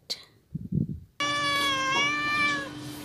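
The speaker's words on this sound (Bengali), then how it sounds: "ক্যাট" A cat gives one long, loud, drawn-out meow nearby, preceded by a few soft thumps and rustles.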